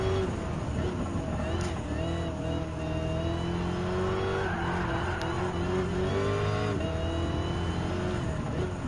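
Race car engines in Gran Turismo 7 roar and rev steadily throughout, with shifting pitch as cars accelerate alongside an Enzo Ferrari and a Nissan GT3 NISMO; a commentator's voice runs underneath.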